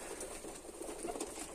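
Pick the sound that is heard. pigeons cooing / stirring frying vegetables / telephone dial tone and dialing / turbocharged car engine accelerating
pigeons cooing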